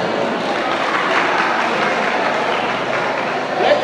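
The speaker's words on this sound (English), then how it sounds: "Please clap for them." Continuous audience clapping at a school programme on substance abuse and crime prevention, a dense broadband wash at steady volume throughout with no talking.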